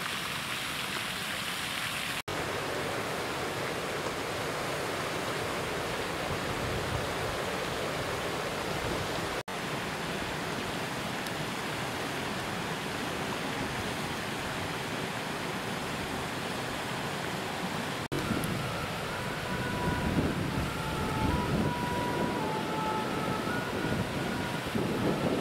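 A small waterfall in a Japanese garden gives a steady, soft rush of falling water, faint and continuous, with light wind noise on the microphone throughout.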